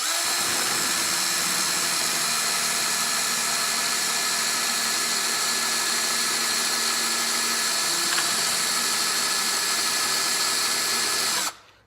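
A power tool whirs steadily as a brass lightsaber switch cap is sanded against 400-grit paper to round its edges, a loud, continuous hum with a faint grinding undertone that stops abruptly at the end.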